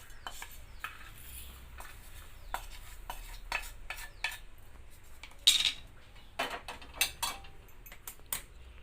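Roasted and raw cumin seeds are mixed together in a bowl with a spoon, making soft scraping and repeated metal clinks, with a sharper clatter partway through, fairly quiet and close, with no talking.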